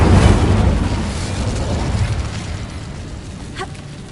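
A fire spell bursting in the wizarding game Hogwarts Legacy: a loud whooshing blast at the start that roars and slowly fades over several seconds, ending with a faint crackle.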